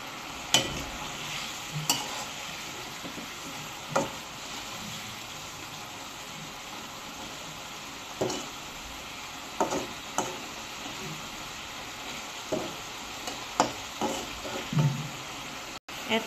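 Hilsa fish frying with cumin and coriander powder, a low, steady sizzle broken by regular stirring clinks and scrapes against the pan.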